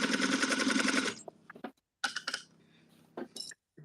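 Sewing machine stitching at an even pace, followed by short pauses with a few clicks and brief bursts of stitching; close and fairly loud, alone without talk.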